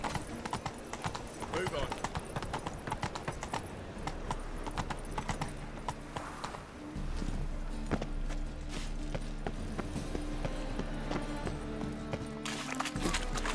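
The horse Roach gallops in The Witcher 3, its hoofbeats pounding in a steady rhythm under music and game sounds while a voice speaks briefly.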